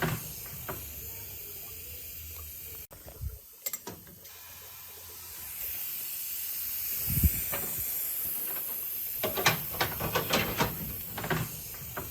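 Steady pressurized air hisses from a car's intake during a boost leak test, escaping around a hose clamp that will not tighten. Hissing fills the background, broken by a sharp cutoff and then scattered clicks and taps from handling parts nearby.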